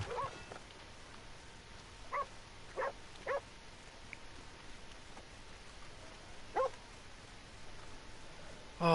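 Dog in the video game Red Dead Redemption 2 letting out a few short, scattered barks and yips over a quiet ambient background, fairly faint and spaced irregularly, with one louder bark at the very end.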